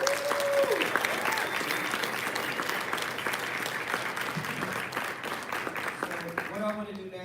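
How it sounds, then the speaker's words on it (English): Sustained audience applause with some crowd noise fills a gathering honoring members at a Mac jacket ceremony, loud and steady throughout, with a few voices mixed in near the end. "So please give a round of applause to all the Mac members."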